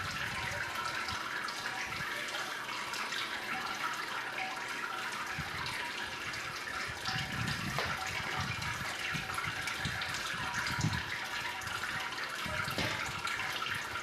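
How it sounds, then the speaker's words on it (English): Sparge water pours steadily into the grain basket of a 120-volt Grainfather all-grain brewing system during a pale ale brew, a continuous splashing trickle heard close up that swells slightly midway. "we're just going to keep doing this until we run out of water, sparge water."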